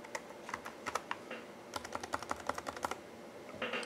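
Someone typing on a computer keyboard, entering a username and password into a Firefox properties field; quick, irregular clusters of crisp key clicks up close, with no talking.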